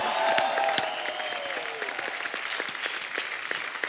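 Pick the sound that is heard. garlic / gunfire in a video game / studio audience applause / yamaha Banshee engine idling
studio audience applause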